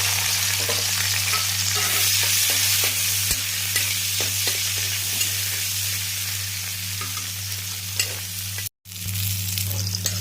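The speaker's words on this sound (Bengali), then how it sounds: "পেঁয়াজগুলোকে একটু ভাজবো।" Onions frying in a pan, a steady loud sizzle with occasional scraping and tapping as they are stirred, cut briefly by a short gap near the end.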